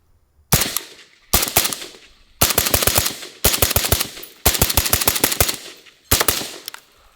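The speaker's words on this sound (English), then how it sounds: "We'll shoot steel later, but into the rock so you guys can get an idea on the sound difference" Bursts of rapid suppressed 5.56 AK rifle shots fired into rock crack in quick strings, six volleys separated by brief pauses, close and sharp.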